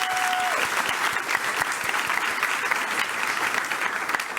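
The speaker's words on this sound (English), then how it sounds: "Can we give them a round of applause?" Sustained applause from a crowd, dense clapping that holds steady for several seconds.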